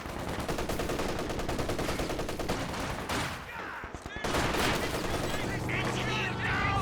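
Rapid continuous machine gun fire in Company of Heroes 2 during a 1v1 match, dense rattling bursts with a short lull midway before the firing resumes, while a caster talks over it.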